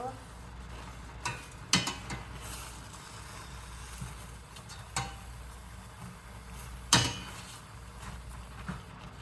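A pot of Southern soul food with onions boils on a home stove as a spoon stirs it, giving a few sharp scrapes and knocks over a low, steady bubbling hiss.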